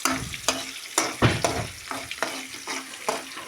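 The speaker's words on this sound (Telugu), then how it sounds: "ఇవన్నీ ఇలా కలుపుకున్నప్పుడు ఇప్పుడు కరివేపాకు కూడా వేసాను" Onions and curry leaves fry in a pan for wet poha upma, with a spatula stirring in steady strokes about every half second over a continuous close sizzle.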